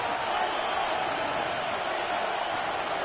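A stadium crowd in the football video game Madden roars as a steady, loud, broadband wash of noise with no breaks, building toward a third-down play.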